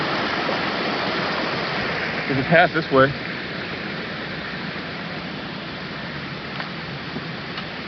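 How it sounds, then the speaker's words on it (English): Water flows steadily at a creek crossing along a lake loop hiking trail, a constant broadband rush that fills the whole clip, with a person speaking briefly partway through. "So we found another water crossing"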